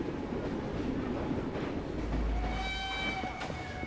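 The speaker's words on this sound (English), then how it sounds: "Oh, we're in a train station." Inside a train station in the Assassin's Creed Syndicate video game, a train rumbles steadily and its wheels give a thin metallic squeal toward the end, all under continuous background noise.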